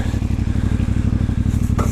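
A CFmoto 450 MT motorcycle on its standard exhaust while riding on twisty roads, with a steady, close, deep rumbling engine beat pulsing evenly throughout and a brief scrape near the end.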